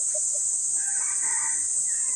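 A rooster crows close by, a strained, drawn-out call over a constant high-pitched hiss of background noise.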